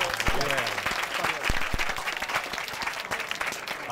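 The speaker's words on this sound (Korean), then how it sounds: "마지막 경기를 앞둔 선수들에게 응원의 박수 부탁드립니다." Audience applause at a professional boxing bout held at Gwangalli, a steady dense patter of clapping heard fairly loud and close, with voices talking over it throughout.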